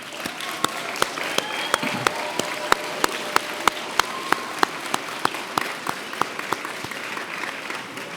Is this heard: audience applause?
yes